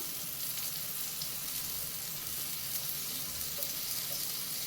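Bread and egg frying in butter in a pan on low flame, a steady close sizzle and crackle running unbroken with faint stirring clinks.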